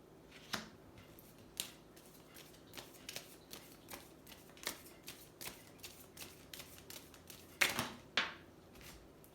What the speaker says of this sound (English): Wow, these cards are flying.